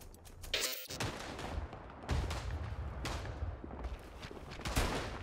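Bursts of RSC-17 automatic rifle fire in the WWI trench shooter game Verdun: several sharp, loud volleys spaced a second or two apart over a steady background din of battle.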